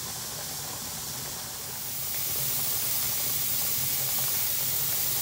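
A pressure canner valve releasing steam, a steady close hiss that swells a little louder partway through and then holds.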